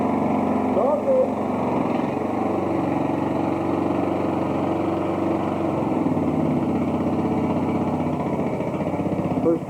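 A 1999 tractor engine runs steadily at close range, a continuous buzzing drone with no breaks, while people talk faintly nearby.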